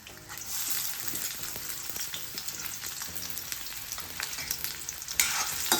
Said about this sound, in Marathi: कांदा गुलाबी रंगावर होईपर्यंत परतत राहायचा